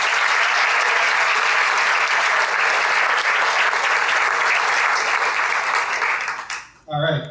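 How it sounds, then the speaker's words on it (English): Loud, dense applause from an audience at a Sunday Assembly launch event fills the room continuously, then cuts off abruptly near the end. "Let's give them a round of applause."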